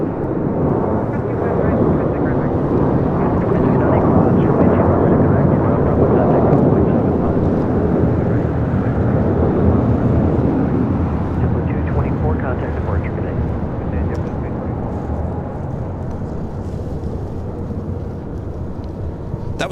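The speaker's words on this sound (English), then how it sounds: "That was JetBlue Airways Flight 224 heading to JFK, that A321." A JetBlue Airways A321 jet departs LAX with a deep, heavy roar that swells early and slowly eases as it climbs away, while voices speak over it throughout.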